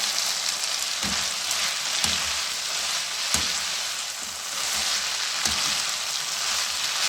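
Chicken macaroni and noodles mixed in a hot pan with sauce, a steady sizzle and frying hiss running throughout, punctuated by a few soft spoon knocks against the pan at irregular intervals.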